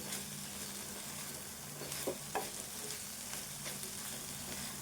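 Okra frying with tomato pieces in a pan, a quiet, even sizzle with a couple of brief stirring scrapes near the middle.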